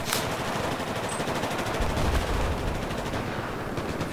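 Rapid automatic gunfire in Battlefield 4, a dense, continuous rattling burst of shots close and loud throughout, with no voices.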